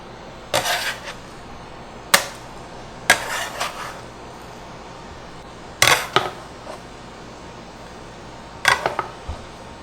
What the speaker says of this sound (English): Lightly grease a pan. And place all these tender carnitas into the pan.